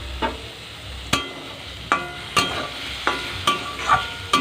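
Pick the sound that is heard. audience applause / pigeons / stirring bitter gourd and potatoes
stirring bitter gourd and potatoes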